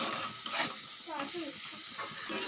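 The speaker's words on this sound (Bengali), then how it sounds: "আর এই যে আলু ভাজছি" Potatoes frying in a pan, a close sizzle broken by scraping stirs and a couple of brief metallic clinks, with no talking.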